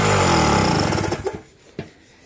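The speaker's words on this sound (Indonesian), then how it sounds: "Ini mesin genset ini 1200 ini buat ngangkat di bor aja nggak bisa bergerak dulur" A 1200 W genset engine with a fault, loud and running with a rough buzzing drone, then cutting out and sputtering to a stop with a couple of last knocks.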